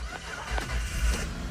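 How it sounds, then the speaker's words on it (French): A Hyundai Santa Fe engine starts on a newly programmed key, a brief close crank and catch that settles into a low idle rumble. "c'est la nouvelle clé qui démarre le véhicule"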